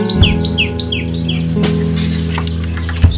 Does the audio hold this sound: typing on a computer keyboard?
no